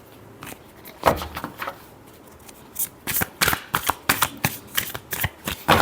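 Tarot cards are shuffled by hand in close, crisp bursts of riffling and slapping. The bursts start sparse and grow into a rapid, steady run of brisk shuffles.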